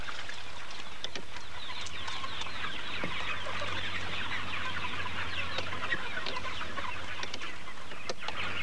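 Dense flock of broiler chickens inside a broiler house, a continuous overlapping chorus of clucks and chirps at steady moderate loudness, with a low ventilation hum beneath and no talking.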